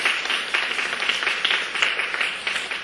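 A church congregation claps to welcome new members at a Sunday service, dense steady applause filling the room at moderate level throughout, with no pauses.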